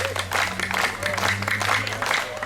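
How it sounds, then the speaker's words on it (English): A crowd claps along on a Hawaii vacation outing, steady hand-clapping that carries under a low droning tone, with some voices mixed in. "Everybody clap your hands."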